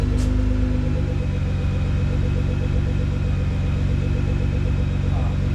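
A rebuilt Nissan GT-R rolls on all four wheels with a steady, mid-pitched engine rumble that holds throughout at close range, while voices are faintly present.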